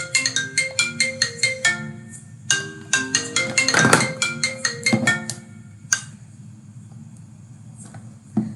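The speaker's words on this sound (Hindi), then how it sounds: "अभी यहाँ से कॉल जाएगी, मेरा फोन रिंग होगा।" A phone rings as an auto-calling device places a test call, a repeating melodic ringtone with regular bursts of notes, fairly loud and close, followed by quieter background after the ringing stops.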